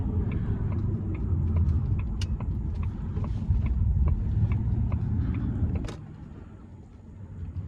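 A 2006 Jaguar XKR picks up speed on the road, heard from inside as a steady low rumble with faint clicks and ticks, easing off and dropping in level near the end.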